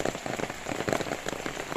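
Heavy rain patters densely and steadily on a village house with a tiled roof and mud walls, a close, continuous drumming with no voices.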